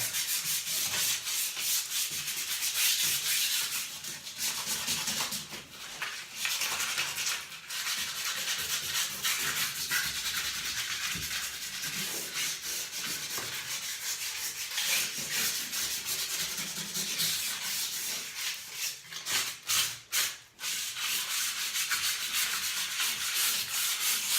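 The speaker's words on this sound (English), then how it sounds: "sand down that rough edge, and you just kind of feel" Sandpaper rubs back and forth over a rough edge in a continuous, close, even scratching that runs nearly unbroken, with a few short pauses near the end.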